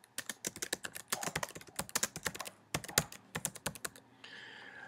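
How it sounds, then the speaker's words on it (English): A computer keyboard clatters with fast, continuous typing of a project title, dense clusters of close key clicks with a brief pause midway; no one speaks. "So I'm going to go ahead and type in my title."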